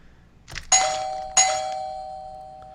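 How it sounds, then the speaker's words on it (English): Two bright bell dings from a soundboard button ring out about half a second apart, each striking sharply and then leaving a long sustained ringing tone that slowly fades, with no talking. "I have a bell here."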